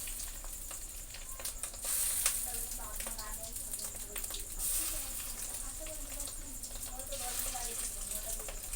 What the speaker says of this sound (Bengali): একটু ডিমের বড়া ছিটতেই চাইবে সাবধানে ভাজতে হবে